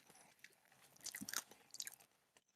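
Wet chewing and biting mouth noises, close and quiet, in a few irregular bursts of crunchy smacking with brief pauses between.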